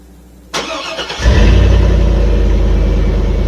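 Car engine cranking briefly and then catching, settling into a loud steady idle, close by, during a soft brake pedal check.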